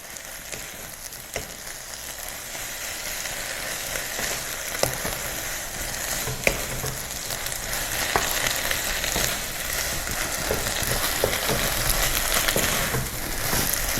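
Eggplant sizzles steadily as it is stir-fried in a pan with small splashes of water added, a continuous frying hiss with scattered stirring clicks and scrapes, fairly close and with no talking.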